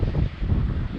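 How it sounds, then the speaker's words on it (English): Low, rumbling wind buffeting the microphone in gusty bursts, loud and close with no other clear sounds. "it's probably windy"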